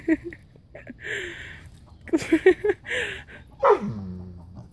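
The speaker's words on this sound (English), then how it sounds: "Daisy, stop barking." A dog barks and yips several times in short bursts, close by, with a person speaking between the barks.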